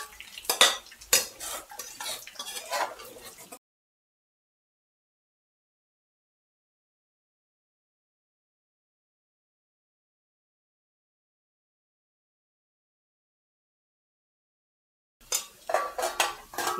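Four dried red chillies go into a pan of browned tempering for an Andhra leafy-greens tangy curry. A short burst of spoon clinks and scrapes against the pan is followed by long silence, then a second burst of stirring clatter.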